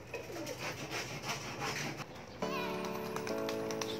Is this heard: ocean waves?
no